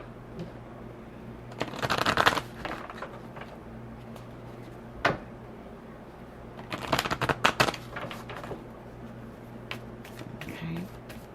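Moonology oracle card deck being shuffled by hand, several quick riffling bursts with pauses between them, close and fairly soft in a quiet room.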